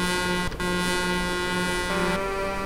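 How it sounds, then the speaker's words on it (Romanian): Several truck or car horns sound continuously behind a truck in the Euro Truck Simulator 2 game, a steady loud honking blare with a brief break near the start and a shift in pitch toward the end, with no talk. "Da, mă, claxonează și ăștia din spate."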